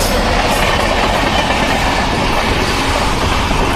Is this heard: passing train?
yes